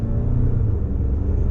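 A Hyundai Genesis G80 engine revving as the accelerator pedal is pressed, giving a loud, steady low rumble heard from inside the car with no talk over it.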